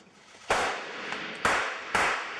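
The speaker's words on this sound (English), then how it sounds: "Fires off, the little explosion goes" Three sharp bangs from small film squib charges go off about a second apart, each a loud crack fading into a hissy tail.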